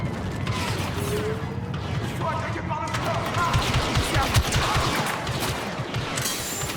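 Blaster gunfire rattles in dense, overlapping bursts throughout a Star Wars Battlefront II campaign battle, with mechanical clatter and game effects layered over a steady loud din.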